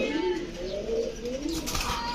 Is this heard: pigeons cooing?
yes